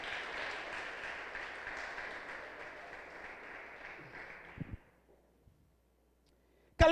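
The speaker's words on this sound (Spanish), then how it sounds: "Da un fuerte aplauso al Rey de Reyes" A church congregation applauds during a Sunday sermon, a moderate, even wash of many clapping hands that lasts about four and a half seconds, then stops into near silence before a short, loud burst right at the end.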